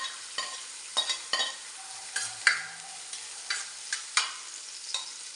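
Vegetables with beans and capsicum stir-fried for fried rice in a pan, with repeated scraping and tossing clatters of a spatula over a steady soft sizzle, no voices.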